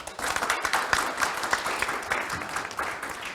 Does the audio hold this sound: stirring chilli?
no